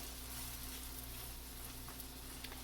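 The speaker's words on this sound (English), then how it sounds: "And just want to brown it gently on each side." Chicken pieces brown gently in a skillet with a soft, even sizzle and a low steady hum beneath it, quiet throughout with no speech.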